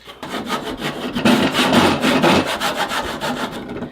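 A handsaw works back and forth during an axe restoration, its kerf rasping like a file against the material. The strokes are quick, close and fairly loud, in a steady rhythm with no talk.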